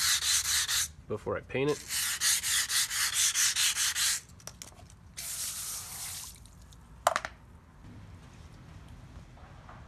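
Rhythmic rasping strokes of sanding on a chassis part being prepped for paint, loud and close, running steadily for several seconds before a pause and a few brief rubbing passes, with a short spoken phrase near the start.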